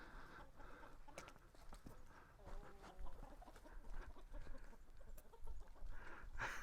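Chickens clucking and squawking nearby, a busy scattered chorus over steady outdoor background noise, with no talking.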